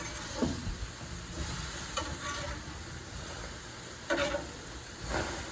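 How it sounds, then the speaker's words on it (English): Burger patties sizzle steadily on a hot cooking surface, with several louder bursts of crackle and scraping as each patty is flipped with a spatula or tongs; no talking. "So now we're going to flip them all"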